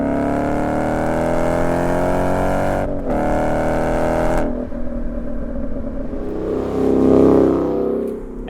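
A 2011 Ford Mustang GT's Coyote 5-liter V8 accelerates hard, its loud rising engine note climbing steadily, breaking briefly at a gear change, then pulling again with a deep rumble.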